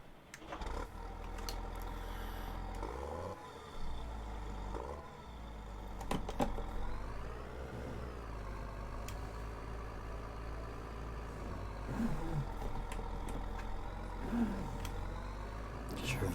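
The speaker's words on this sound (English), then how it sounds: "This is the only tractor up here," A tractor in a farming game runs with a steady low diesel drone that rises and falls as it revs, with someone talking over it throughout.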